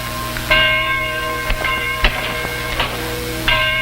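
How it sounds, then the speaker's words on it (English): A church bell is struck several times in irregular succession, each strike ringing out with a bright metallic tone and a long sustained hum. "There's the bell."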